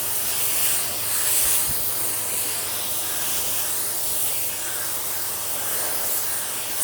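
A spray gun lays a drop coat of clear coat in a continuous airy hiss, loud and close. The spray holds steady for several seconds and no one talks.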